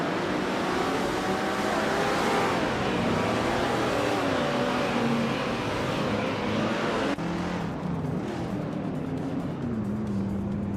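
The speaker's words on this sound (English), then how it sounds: "The race kicks off with Amy taking an early lead" Race cars roar continuously at the start of a race, a dense, loud engine drone with shifting pitch as several cars accelerate together, a change in tone partway through as they pass.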